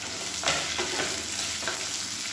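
Garlic and chopped medium onion frying in a pan for chutney, giving a steady loud sizzle with a few brief stirring scrapes.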